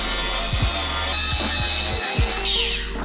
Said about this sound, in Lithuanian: kampinis šlifuoklis. Mes pasiruošę.